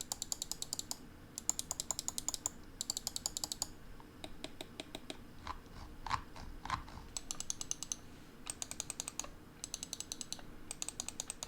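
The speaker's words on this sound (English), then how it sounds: "the clicks on this mouse are just fantastic. Let's get this sound test." Rapid, crisp clicking in quick bursts with short pauses between, close and dry, from the buttons of a HyperX Pulsefire Surge computer mouse being pressed repeatedly; no voices.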